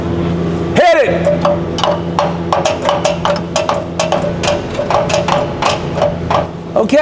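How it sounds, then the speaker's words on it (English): A hammer bangs repeatedly on the starter motor of a Land Cruiser, sharp metallic knocks in a quick, uneven series, close and loud after one heavier initial blow. "You hit that, I'm gonna bang on the starter."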